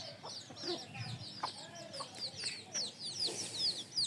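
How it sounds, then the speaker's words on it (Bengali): Ten desi hens on a small village farm cluck and chatter in overlapping, fairly soft calls with a few higher squawks, heard close, with no speech. "এই হলো আমার 10টি মুরগির ছোট্ট খামার"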